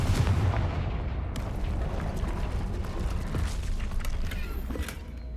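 A Confringo spell explosion in the video game Hogwarts Legacy makes a loud rumbling blast that rolls on as a dense, continuous roar for several seconds; no voices are heard.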